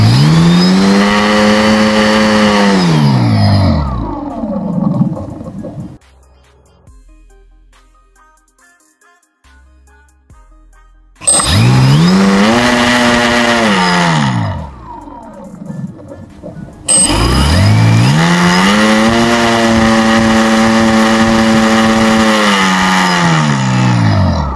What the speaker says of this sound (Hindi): यहाँ पे हमारी मोटर कितनी हाई स्पीड पे रन हो रही थी